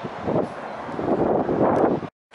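Breezy wind on Holyhead Mountain buffets the microphone in a steady broadband rush for about two seconds, then cuts off abruptly.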